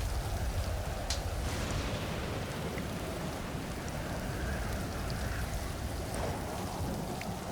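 Steady rain pouring down in the survival game Stranded Deep, a dense continuous hiss of drops with a few brief sharper spatters, loud and unbroken with no talking.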